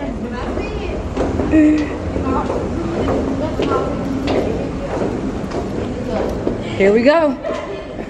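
Inside a New York City subway station, a train rumbles and a door chime sounds amid echoing crowd chatter, while people talk nearby over the steady underground din.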